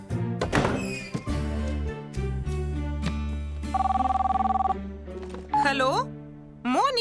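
A mobile phone rings with a bright, repeating electronic tone in the middle of a cartoon pony scene, set among clunks, music and character voices, its warbling trill clear and close.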